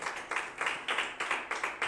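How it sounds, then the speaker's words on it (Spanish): Church congregation clapping in steady, rhythmic unison, a regular beat of hand claps at moderate volume with a slight echo of a hall. "Dale un aplauso al Señor."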